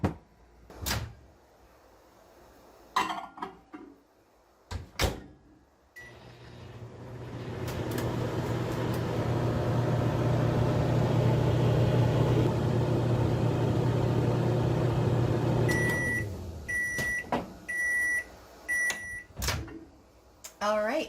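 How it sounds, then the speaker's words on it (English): A microwave oven on high heats a chocolate fudge mixture: door clunks, a steady humming run of about ten seconds, then repeated beeps, with more clatter and thuds around it and a voice at moments. "we're going to pop it in the microwave on high for 1 minute"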